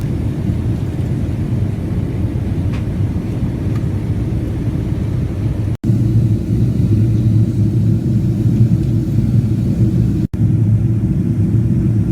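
Inside a British Airways airliner descending toward Houston, a deep, steady cabin rumble drones continuously and loudly throughout, with no voices.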